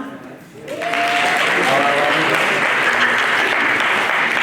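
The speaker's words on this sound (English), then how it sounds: "Applause." A convention panel audience breaks into sustained applause after a brief moment, steady and full, continuing loudly to the end.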